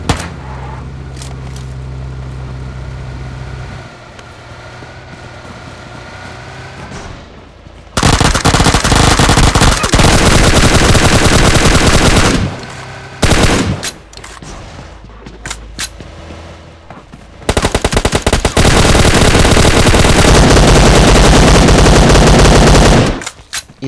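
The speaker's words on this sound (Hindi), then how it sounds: "इधर गन फाइट के साउंड्स आ रहे थे हम लोगों को" Gunfight in the PUBG video game: loud bursts of rapid automatic fire, sometimes in long sustained sprays, alternate with quieter gaps of background game sound and a few single shots.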